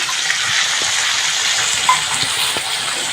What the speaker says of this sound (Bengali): একটু জল নিয়ে আমি এখানটায় দিয়ে দিলাম